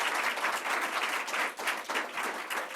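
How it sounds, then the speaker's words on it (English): Sustained audience applause for a borough president at a government funding announcement, a dense, steady wash of many hands clapping throughout. "let's give him a round of applause, Donovan Richards."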